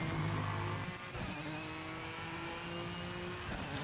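Racing car engine from the sim racing game Project Motor Racing, a steady, fairly subdued drone with faint harmonic whine holding throughout, no voices.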